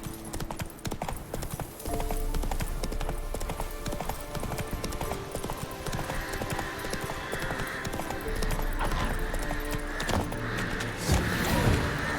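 The horse Roach gallops in The Witcher 3 with steady, rapid clip-clop hoofbeats close by for the whole stretch, a brief whinny-like sound near the end and a faint voice underneath.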